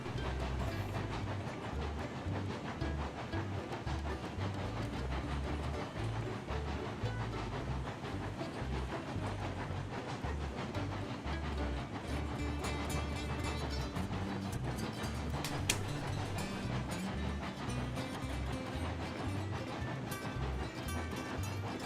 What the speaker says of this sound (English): I do like the new Chuff Sounds